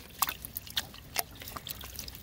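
Water is poured into a hose-end sprayer for applying beneficial nematodes to a lawn, giving faint, uneven splashes and trickles with a few sharper drips against a soft outdoor background.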